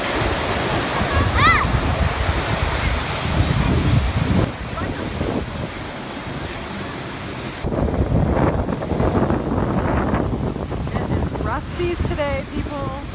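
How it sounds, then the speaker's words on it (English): Surf and gusty wind at Myrtle Beach, a broad continuous roar with wind buffeting the microphone, and a person talking intermittently over it. "Bino, are we at the beach? Are we at the beach? Yes, we are."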